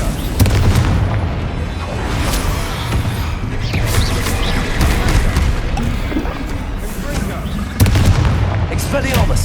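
Confringo blasting spells from Hogwarts Legacy explode in repeated loud booms and crashing blasts, with a heavy hit near the start and another near the end, over dense continuous battle noise.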